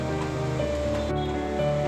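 Waterfalls in the Andharban jungle of the Kundalika valley pour in a steady, dense rush of water, continuous and fairly close, with no voices.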